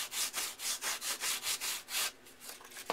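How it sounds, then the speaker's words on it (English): Steady back-and-forth rasping of sandpaper on wood, about ten even strokes in a regular rhythm, close up. "So I'm sanding like a compound angle, you know?"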